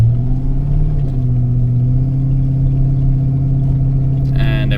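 Cheap abandoned luxury coupe with a suspect transmission pulling away in first gear on a wet road: a loud, steady engine drone that rises slightly in pitch, with a brief rougher burst at the very end.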